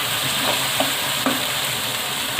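Potatoes and spices frying in a pan for a restaurant-style keema aloo, giving a continuous loud sizzle with a few soft stirring scrapes, close and without speech.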